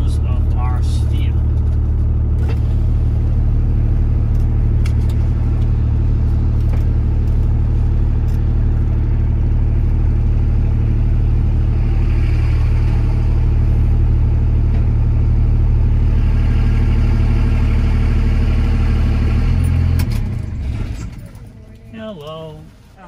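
A vehicle engine idles steadily and close by while pulling onto scrapyard scales, a constant low drone with mechanical clatter that cuts off near the end; people talk over it.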